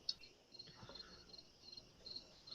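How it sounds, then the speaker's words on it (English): Wild crickets chirp steadily in a quiet indoor space, a soft continuous trill with faint rhythmic pulses and no voices over it. "Who's got the crickets going on?"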